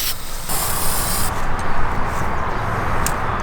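Loud aerosol spray hisses in long continuous bursts, pausing briefly between sprays, close to the listener, sprayed on turbo kart engine seals.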